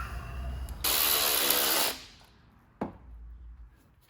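Power driver or drill briefly run to tighten a fitting on an intake line, a loud whirring burst of about one second, followed by quieter handling noise and a single sharp click.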